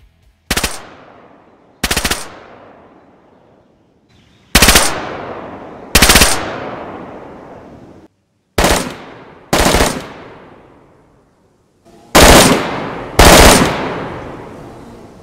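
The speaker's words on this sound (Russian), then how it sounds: "давайте послушаем, как Honey Badger будет звучать с глушителем и без" Honey Badger rifle in a video game fires eight loud separate shots or short bursts, each with a sharp crack and a decaying echo tail, spaced over several seconds, some paired closely, with no talking.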